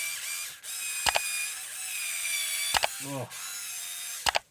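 Aldi Ferrex 4V Li-ion cordless screwdriver at its highest torque setting, giving a steady whirring hum with several short sharp bursts as it bites, near and fairly loud, with a brief spoken exclamation in between.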